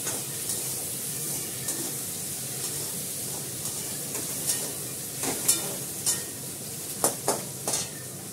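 Cumin seeds, salt and turmeric fry in a pan with a soft constant sizzle, joined by sharper scraping stirs and utensil clinks that grow more frequent toward the end.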